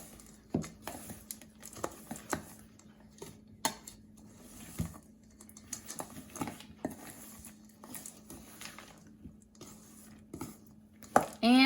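Dry granola ingredients flavored with real vanilla are mixed in a bowl, an irregular run of scraping clinks, rustles and taps of a utensil against the bowl, close and moderately quiet, with no talking.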